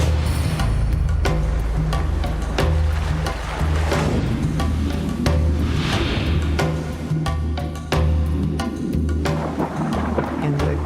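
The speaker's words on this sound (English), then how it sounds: "I was hearing waves breaking on something." Waves breaking on something unseen, heard by a swimmer lost at sea: a dense, continuous rumbling wash with repeated crashing surges and heavy low roar, loud and close throughout with no voices.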